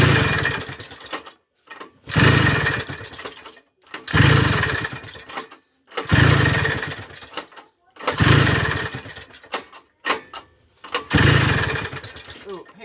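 A snowmobile engine mounted on a homemade four-wheeler sputters loudly in repeated bursts of a few seconds each, cutting out between them as it struggles to keep running.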